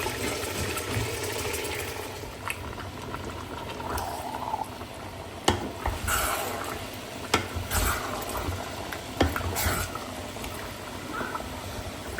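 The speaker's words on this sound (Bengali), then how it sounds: "এখানে মিটের জন্য হচ্ছে মশলা কষাই তুলছি" Spices sizzling and frying in a pan for a meat dish, a continuous crackling hiss with occasional sharper clatters from stirring, close and moderately loud.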